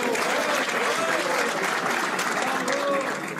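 Spectators at a Masters 2021 pétanque semi-final in Montluçon give a sustained round of applause, dense and even clapping throughout, fairly close.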